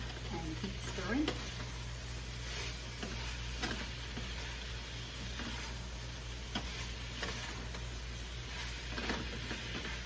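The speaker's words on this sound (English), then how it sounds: "keep stirring" Ham stir fry sizzles in a pan while being stirred, a soft continuous frying hiss broken by occasional scraping ticks of the utensil, close but fairly quiet over a low background hum.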